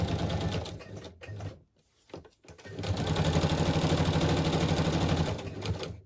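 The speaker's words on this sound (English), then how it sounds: "And I'm just going to straight stitch around each one." A sewing machine straight-stitches around small paper journal cards, running in steady rapid bursts with a short pause in the middle before a long continuous run.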